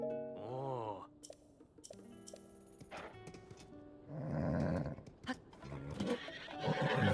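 A horse in Zelda: Tears of the Kingdom gives a loud, wavering whinny, followed by snorts and shuffling, with other game sounds and a short burst of noise afterward.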